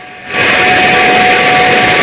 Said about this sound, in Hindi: पुतिन जब लैंड हुए हैं तो सबकी नजरें पुतिन के इस विमान पर थी